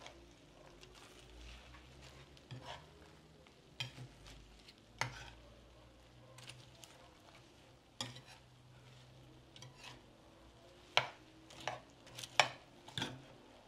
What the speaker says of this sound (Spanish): Ya le voy a poner el chicharrón. Y aquí lo voy a dejar hasta que se suavice. Hay que estarle moviendo.